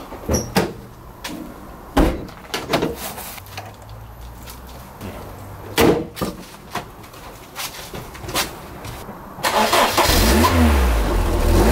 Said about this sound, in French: Pourquoi j'ouvre le coffre? Pour ouvrir le capot, bien sûr.